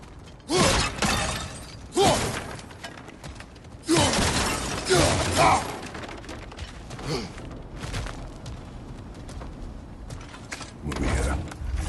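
Objects shatter and splinter in God of War Ragnarok, several loud crashing bursts of breaking wood and debris in irregular clusters, with mechanical creaks and rattles between.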